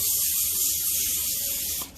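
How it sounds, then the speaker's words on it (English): Cooking spray hisses steadily from an aerosol can onto a baking dish, one continuous close spray lasting nearly two seconds before cutting off sharply. "So I'm going to spray, use my cooking spray,"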